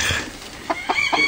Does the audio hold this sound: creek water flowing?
no